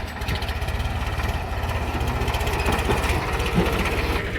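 A tractor engine runs nearby with a steady, throbbing diesel chug at an even pulse, loud and continuous throughout.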